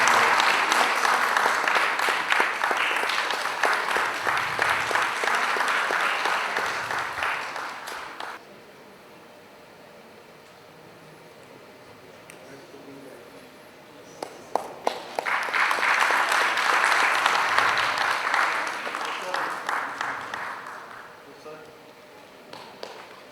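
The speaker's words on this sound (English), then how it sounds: "Big round of applause to Shukla sir." An audience at a poultry veterinarians' annual general meeting applauds in two long, loud bursts of clapping separated by a quieter stretch of scattered sounds and footsteps.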